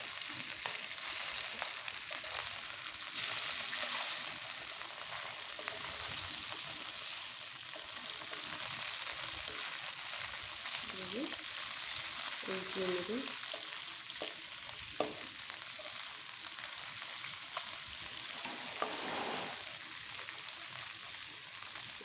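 Pieces of taki fish fry in an open pan with a soft, continuous sizzle and faint crackle, plus a few quiet clinks and scrapes, heard close and alone for a long stretch.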